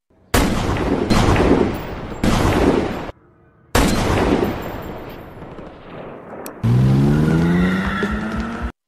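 Gunshots ring out in a sniper scene from the Jack Reacher film, a handful of sharp loud cracks with echoing tails separated by brief gaps, followed by a rising engine-like whine near the end.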